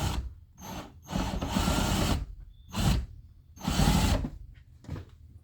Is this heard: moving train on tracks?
no